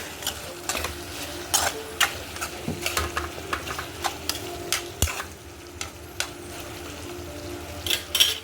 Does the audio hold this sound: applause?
no